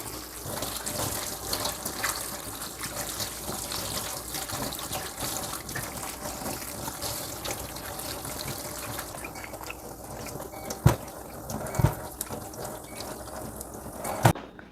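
Tap water runs steadily into a kitchen sink while fruit is washed with soap, a continuous splashing gush with a few clunks and knocks toward the end; no talking over it.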